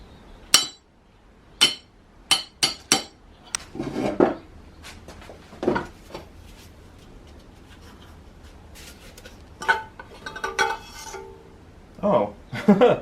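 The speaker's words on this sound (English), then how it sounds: "And then I'm just going to whack it with a hammer and see if it drives the seal in." A hammer strikes in sharp metallic blows, several quick taps and then scattered hits, driving a new seal into the steering rack of a 1990 Saab 900 during a rebuild. Clinks and shuffling come between the strikes.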